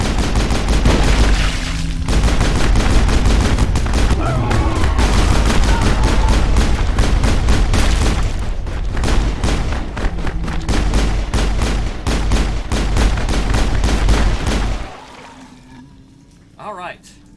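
Rapid bursts of weapon fire in the video game Mass Effect, dense repeated shots rattling loudly for most of the stretch before dropping away to quiet near the end, with a player talking over the action.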